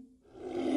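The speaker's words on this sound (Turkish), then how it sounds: "Lion," A lion's roar swells from a low rumble into a loud, rough growl over less than a second, getting louder right to the cut-off.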